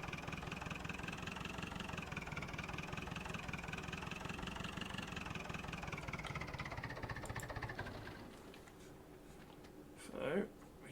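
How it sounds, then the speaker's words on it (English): A tractor engine idles in the video game Farming Simulator 2011, a steady droning hum that drops away near the end, followed by a brief whooshing sweep, with a voice talking over it. "This is one of the other tractors."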